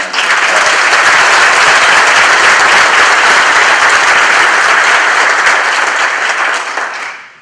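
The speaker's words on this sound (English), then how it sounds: "Let's give them really a big round of applause." Loud, sustained applause from an audience honoring civilian volunteers, dense clapping filling the room for several seconds before fading out at the end.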